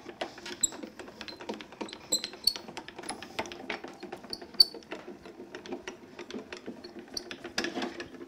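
A die-cutting machine rolls a card through its plates, giving a quiet, close ratcheting crank with irregular clicks and creaks and no talking.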